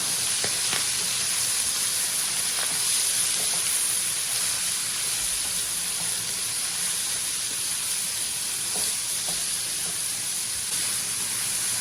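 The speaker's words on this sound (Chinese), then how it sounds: "接下来把我们切好的辣椒，还有胡萝卜丝倒进去，豆芽也倒进去，随后给它翻炒翻炒。" Chili, carrot strips and bean sprouts stir-frying in a hot wok, a loud continuous hiss and sizzle with scattered light clicks of tossing, no talking.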